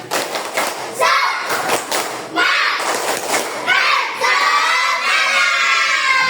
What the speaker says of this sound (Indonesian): Untuk itu saya memiliki tepuk semangat.